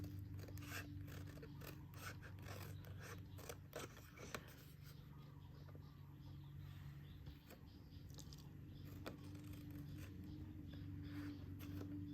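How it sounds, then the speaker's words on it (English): Paper snips cut paper to round the edges of a birthday treat box, producing soft, repeated scraping snips over a steady low background hum with no voices. "you're going to do a little bit of fussing cutting with your paper snips"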